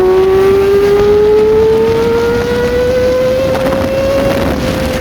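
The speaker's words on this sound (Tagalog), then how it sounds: "Subukan natin ulit yung quick shifter and auto blip dito." A Kawasaki Ninja ZX25R motorcycle engine revs hard and climbs steadily through a long, high-pitched wail, loud and close with wind rush, as the quick shifter and auto blip are tried.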